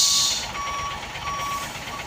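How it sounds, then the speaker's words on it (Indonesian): A truck trailer maneuvers into a parking position while its reversing alarm beeps steadily at close range over the engine's low rumble, with no talk. "Nampak trailer ini ambil posisi parkir nih bosku."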